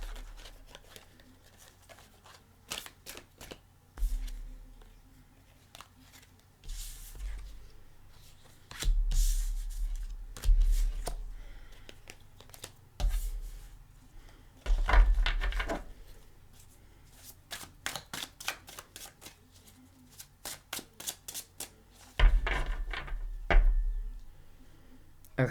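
New tarot cards are shuffled by hand in repeated bursts, each a quick riffling flutter of stiff card stock followed by soft taps and pauses, close up and fairly quiet, with no talk.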